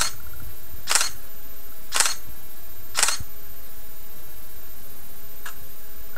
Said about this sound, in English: Here you can hear the camera firing.